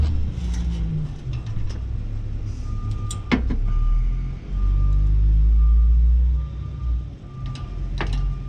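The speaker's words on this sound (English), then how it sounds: "That would be the garbage man you hear in the background." A garbage truck rumbles and idles in the background, its low engine drone swelling and fading, with a steady tonal reversing beep and a sharp hiss of air brakes partway through.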